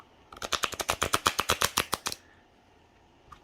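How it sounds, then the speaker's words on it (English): Oracle cards being riffle-shuffled, a rapid run of about fifteen crisp, close flutters that stops abruptly and leaves quiet. "Really easy to do any kind of shuffle."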